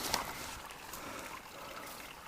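A little creek trickles through a canyon, a faint, steady wash of water close by, alone and without voices.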